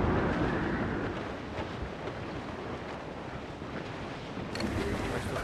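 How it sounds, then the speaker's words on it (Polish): Strong wind at sea in Assassin's Creed IV: Black Flag: a loud, steady roar of gusting wind and rushing waves around a sailing ship, continuous and broadband, with no talk. "The wind is picking up nasty!"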